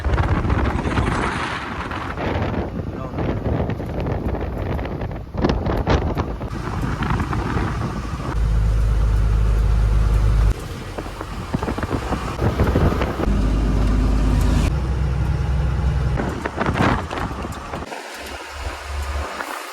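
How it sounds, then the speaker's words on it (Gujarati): Strong wind buffets the microphone on the white salt desert of Kutch, a loud continuous roar with low rumbling gusts that swell and ease throughout, no voices. "અને ફૂલ પવન આવે છે"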